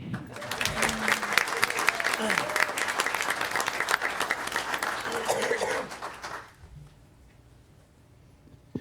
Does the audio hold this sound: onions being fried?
no